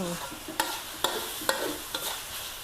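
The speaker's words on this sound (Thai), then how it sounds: "เนี่ยการจะผัดแห้งๆเลยนะ ผัดแห้งๆแล้วมัน มันมีความน่ากินอะ" Cha-om and glass noodles are stir-fried dry in a pan: a spatula scrapes and stirs in regular strokes about every half second over a steady sizzle, close and clear.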